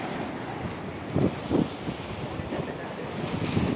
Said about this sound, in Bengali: দুপুরের মোহনা, জলের উত্তালটা দেখুন